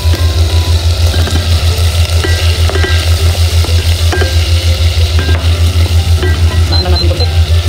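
Garlic paste sizzles loudly in a pan of melted butter while shrimp Indomie curry is cooked, a continuous close frying hiss with a steady low hum beneath and occasional stirring clicks.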